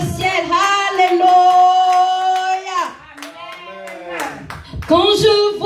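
A church congregation at a Sunday service claps steadily and loudly in rhythm under strong singing and acclaiming voices, with the clapping continuing through a short pause in the song.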